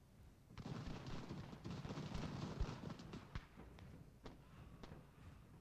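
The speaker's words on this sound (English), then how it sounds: "The artillery firing regular ammo" Artillery and battle gunfire in Ultimate General: American Revolution, a dense rumbling barrage of booms and thuds with sharp isolated cannon reports, loud and continuous throughout.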